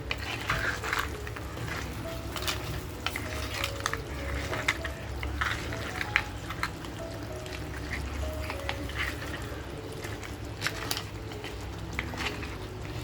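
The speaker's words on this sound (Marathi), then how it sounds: "त्या चिंबोऱ्या आपण त्या मसाल्यामध्ये फ्राय करून घेऊया." Crabs frying in masala in a pan, with a steady sizzle under repeated stirring and scraping, occasional utensil knocks against the pan, close and moderately quiet.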